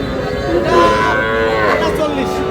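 A young Sahiwal bull calf on a Rangamati cattle farm gives a loud, drawn-out moo close by, with a rising and falling tone across about two seconds and no talking over it.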